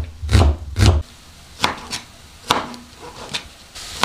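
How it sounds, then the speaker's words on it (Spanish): A knife chops tomato and onion on a cutting board, with two heavy thuds up front followed by a series of lighter, irregular cuts, close and clear with no talking. "También voy a estar picando el tomate y la cebolla."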